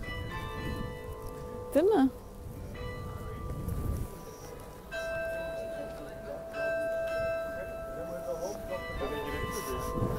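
Church bells ring steadily in the background of a street scene while people talk nearby.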